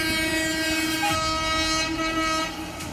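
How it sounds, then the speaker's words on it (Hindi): A train sounds its horn in a loud, sustained multi-tone blast as it approaches along the tracks, with a rumble beneath that fades slightly at the end. "हॉर्न बजाते हुए ट्रेन पटरी पर आ रही है"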